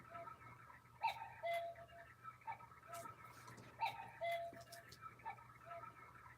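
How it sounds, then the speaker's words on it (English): Steady ticking of a cuckoo clock indoors, a quiet regular tick-tock pulse with faint higher chimes and clicks over a low hum, heard alone without talk. "I love my cuckoo clock"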